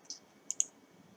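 Two quick, crisp computer mouse clicks land close together on an OK button during photo editing, preceded by a softer single click, all near and clear over a quiet room hum.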